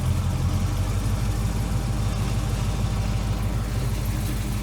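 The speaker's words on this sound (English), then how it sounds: "let me idle it up with the idle speed screw just a touch" A car engine idles steadily and loudly up close, with a low, even rumble that holds without revving while the idle speed screw is turned up slightly.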